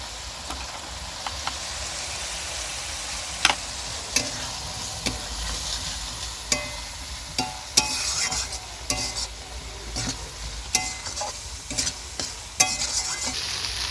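Duck meat frying in a pan with turmeric and salt, a steady close sizzle broken by repeated scraping stir strokes throughout, with no talking.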